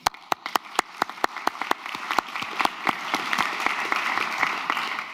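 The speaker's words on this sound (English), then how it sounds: "So this deserves a short extra applause" At a master's graduation ceremony in industrial design at TU/e, the audience gives a short extra applause for a cum laude graduate. It opens with a few sharp, separate claps that quickly thicken into steady, fairly close clapping from many hands.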